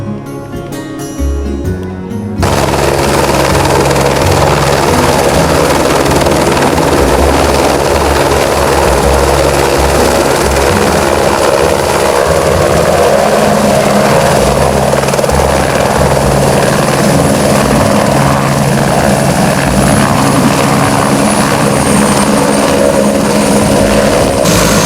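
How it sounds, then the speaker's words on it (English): A fire department helicopter in flight gives a loud, continuous rotor and engine drone that sets in abruptly and holds steady throughout, with no voices. "Well, we use helicopters quite a bit, depending upon the patient's needs."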